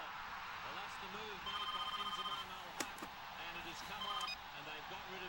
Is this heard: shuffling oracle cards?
no